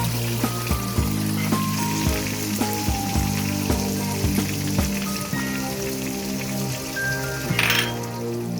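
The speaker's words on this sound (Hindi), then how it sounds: "अब मैं इसके अंदर कटे हुए टमाटर ऐड करूंगी और अच्छे से पकाएंगे" Chopped tomatoes going into hot oil with fried garlic-ginger paste, setting off a steady close crackling sizzle with repeated clinks of a utensil against the pan.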